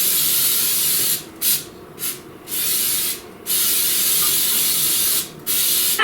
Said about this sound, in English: The secret is a good bundt pan and spray it well.